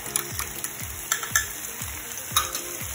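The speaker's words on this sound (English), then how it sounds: "give it one last stir." Chicken and broccoli in brown sauce being stirred in a pan, steady frying sizzle with repeated scraping strokes of the spoon against the pan, close and moderately loud.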